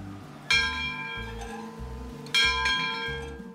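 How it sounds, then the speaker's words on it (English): A locomotive bell clangs twice, each ring a strong metallic strike with a long shimmering decay, heard alone over a low rhythmic engine throb from a nearby train. "The bell on the train is used to communicate too."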